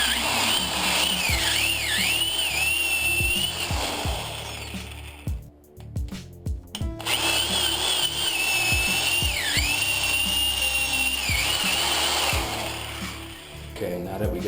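A power drill boring holes into a bass trap panel, whining steadily at close range with a brief pause midway as the motor stops and restarts, while a voice speaks over it.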